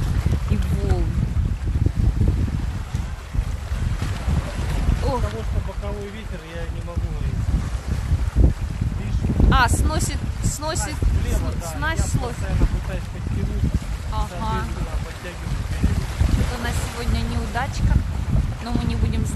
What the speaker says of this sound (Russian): Немножко вам шума моря.